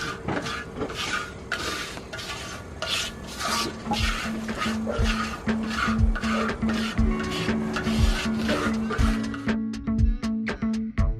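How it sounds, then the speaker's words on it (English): Rust is scrubbed off a cooking pan with repeated back-and-forth rubbing strokes, close by, scratchy and gritty at a steady rhythm, and a brief rapid clatter comes near the end; no talking. "you just start working it back and forth, mixing it in and getting the rust and whatnot off"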